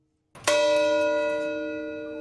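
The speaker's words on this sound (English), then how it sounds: "loved ones ring Placerville's bell tower" A memorial bell tower bell in Placerville is struck once, giving a loud, clear toll that rings on and slowly fades, heard alone against quiet outdoor air.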